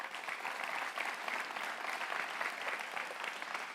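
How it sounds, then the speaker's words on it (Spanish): Church congregation applauding during a Spanish-language worship service, a steady dense wash of many hands clapping together, sustained and somewhat distant. "¿Por qué no le damos un aplauso al Señor?"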